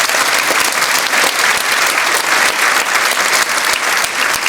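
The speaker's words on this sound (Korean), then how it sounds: "우리 하나님 앞에 영광의 박수 먼저 올려드리겠습니다" Congregation applause at a church rally in Daejeon, sustained dense clapping from a large crowd, loud and steady throughout with no break.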